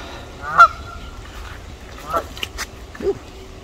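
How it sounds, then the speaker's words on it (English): Wild geese, a group of four with young nearby, honk several times in scattered, nasal calls at moderate distance, with faint outdoor background between calls. "We have four wild geese here."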